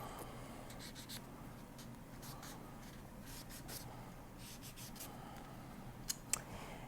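Sanding the top of a bronze clay piece on copper clay, a faint soft rhythmic scratching and rubbing in quiet short strokes, with a couple of small sharp taps near the end.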